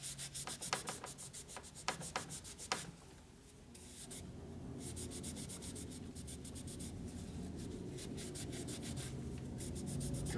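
Something rubbed briskly back and forth across the motor mount surface of a 1961 Harley-Davidson FL 74ci panhead engine being rebuilt: a quick, scratchy stroking rhythm for a few seconds, then a steady, duller rubbing hiss that continues close and alone.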